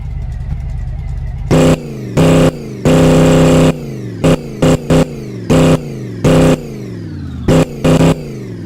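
A supercharged truck engine in a home garage revs in about a dozen short, loud, close bursts, each rising sharply and cutting off, with a low idle rumble in the gaps between them.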